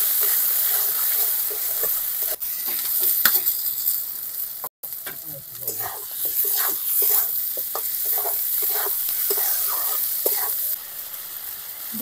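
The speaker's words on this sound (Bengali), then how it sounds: "লবণ, হলুদ গুঁড়ো, মশলাটা ভালো করে কষিয়ে নেব।" Masala with salt and turmeric powder is stir-fried in a pan for a hilsa and brinjal curry, producing a loud, close sizzle broken by repeated scraping stirs and a brief dropout midway, with no voices.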